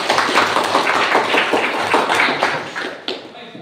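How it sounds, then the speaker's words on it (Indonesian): A classroom of children claps their hands together in a fast, uneven rhythm for a few seconds. The claps are close and loud, then thin out and stop. "Oke, 100 tepuk tangan dulu."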